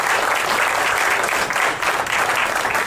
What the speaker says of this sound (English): I think that deserves a round of applause within itself.